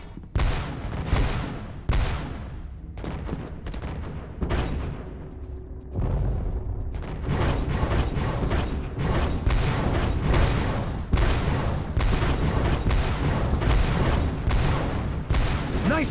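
Turret cannon fire in the Star Wars Revenge of the Sith video game, during a space battle to save a cruiser. Heavy booming blasts repeat steadily throughout, dense and loud, with explosions layered over a constant rumbling game soundtrack.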